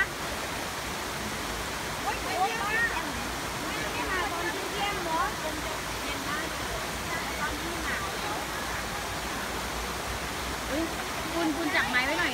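A waterfall near Ban Na Chaluai in Thailand gives off a loud, constant rush of falling water that fills the scene, while people's voices come and go beneath it.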